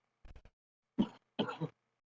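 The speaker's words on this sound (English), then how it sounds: "oh my goodness, stop coughing" A quick run of small throat-clearing coughs followed by two heavier coughs, close and fairly quiet, with silence between them.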